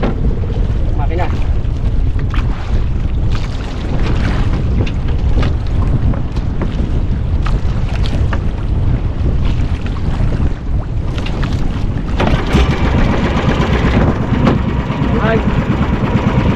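A boat engine drones continuously beneath heavy wind buffeting and splashing water, with occasional voices calling out.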